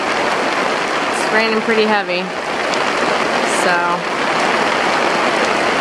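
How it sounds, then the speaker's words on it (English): Heavy rain pours steadily in a dense, hissing wash, with a voice speaking briefly under the downpour. "It's raining pretty heavy."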